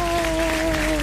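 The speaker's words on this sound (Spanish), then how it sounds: "les pido un aplauso, por favor" A TV studio audience gives a burst of applause, a dense steady patter of clapping heard close and loud, with a steady electronic hum under it.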